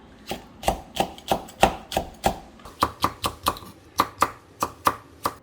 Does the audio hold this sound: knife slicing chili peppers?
yes